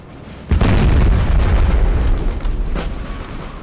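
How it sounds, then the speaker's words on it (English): A howitzer in the game Napoleon Total War fires once in a single loud, close boom whose deep roar slowly decays over the next three seconds. "This howitzer is very accurate"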